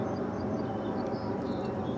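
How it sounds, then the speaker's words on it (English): A steady, low airplane drone hangs over a garden, a soft, even rumble with no clear rise or fall through the whole stretch. "Excuse the airplane noise."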